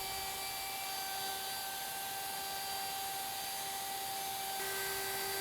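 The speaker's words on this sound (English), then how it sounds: "ease the bit into the board until the bearing touches the edge. Then move the router from left to right or counterclockwise." A handheld wood router spinning a roundover bit along the edge of a board, giving a steady, loud high-pitched whine with no pauses, heard alone.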